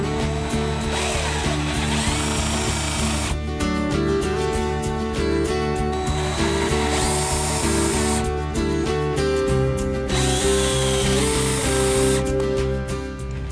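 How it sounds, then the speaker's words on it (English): A power drill boring holes through a fibreglass boat deck for a mounting bracket, loud steady whirring in long bursts with brief pauses and pitch shifts as the bit bites and the motor bogs. "when I drill straight down through the deck of the boat, everything will come out perfect"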